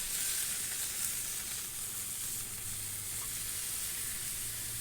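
Chipotle smash burger patties of 80-20 ground chuck frying on a Blackstone griddle, giving a steady, close hissing sizzle that holds even throughout with a faint low hum beneath and no speech.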